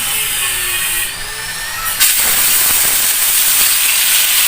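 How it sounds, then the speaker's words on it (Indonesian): Ground spice paste of candlenut, ginger, turmeric and chili dropped into hot oil, a loud, close, continuous sizzling hiss that surges sharply as it hits the pan. "Kita masukkan bumbunya ya guys."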